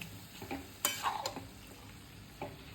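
Carrot halwa simmering in half a litre of full cream milk is stirred in a pot: quiet, close scraping strokes and a couple of light utensil clinks over a faint bubbling background.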